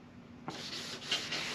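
Sandpaper of 600 grit rubbed across car paint, a soft steady scratchy hiss that starts after a brief pause and runs in short back-and-forth strokes, close and fairly quiet.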